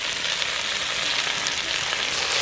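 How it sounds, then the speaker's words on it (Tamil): Pungai flowers and greens sautéing in a pan, a steady close hiss of frying with faint stirring scrapes running throughout. "நல்லா சேர்த்து வதக்கி விட்டுக்கலாம்"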